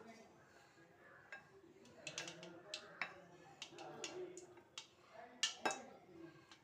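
A ladle stirs tea-stall style kara bonda batter, giving faint scattered clinks and taps against the bowl over a quiet background.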